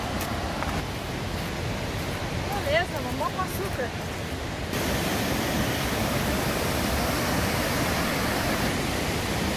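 Waterfall at Sete Quedas, a steady broadband roar of falling water that swells louder midway, with brief faint talk early on.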